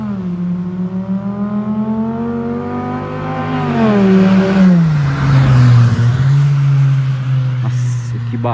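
A Volkswagen Jetta running a straight-pipe exhaust approaches and passes close by. Its loud, droning engine note rises and shifts pitch as it nears, then settles into a deep, rumbling roar.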